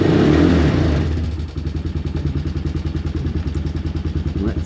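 A Honda Recon ATV left sitting for years in the woods fires up from a cold start without choke: a loud initial burst settles into a steady, rapid, clattery idle chugging close by, with no talk over it.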